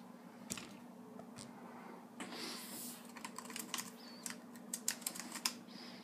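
Keys clatter on a cheap USB keyboard plugged into a Microsoft Surface tablet, with quiet, uneven bursts of typing that grow busier toward the end, heard close up against a faint background hum.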